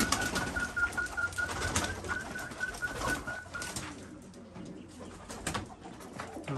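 Kept pigeons coo continuously near the listener, soft throaty calls layered over a busy background with no clear speech.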